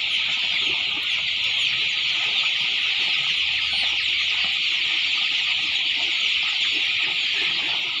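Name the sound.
chicks of a three-breed cross chicken, 18 days old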